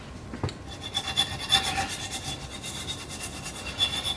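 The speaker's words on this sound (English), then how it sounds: "Sanding all this dirt and oil" Scratchy sanding of dirt and oil off a metal rack for a 1960 Allegro, steady back-and-forth rasping strokes close up, with no talking.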